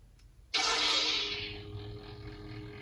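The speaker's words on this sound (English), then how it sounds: "I like the kind of growly sound the idling blade has." A NeoPixel lightsaber blade ignites with a sudden bright, rushing burst, then settles into a growly, humming idle that fades slightly but holds steady.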